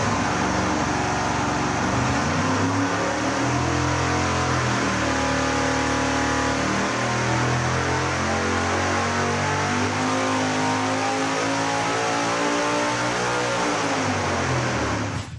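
A blown big-block Chevy engine running on nitrous roars on a dyno, sweeping steadily upward in pitch from about 5,000 RPM toward 7,200 during a sustained, loud, close-up pull that ends abruptly.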